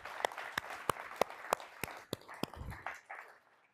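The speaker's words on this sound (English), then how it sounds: "Round of applause to OnePlus" Sparse, evenly spaced claps from a conference audience, about a dozen distinct hand claps in a slow rhythm that thin out and fade toward the end, fairly faint and without speech.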